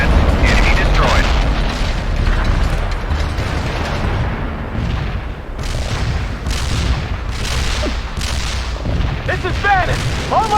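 Heavy artillery fire in World in Conflict booms repeatedly over about ten seconds, a dense rumbling barrage of loud blasts with scattered sharp impacts and faint radio-style voices mixed underneath.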